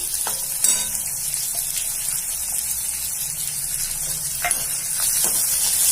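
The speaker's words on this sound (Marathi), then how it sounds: "आता कांदे चांगले लाल होईपर्यंत आपण भाजून घेऊ" Finely chopped onion frying in a pan with garlic and sliced dried coconut, a steady bright sizzle and crackle that holds loud and even for the whole stretch, with occasional stirring scrapes and no talking.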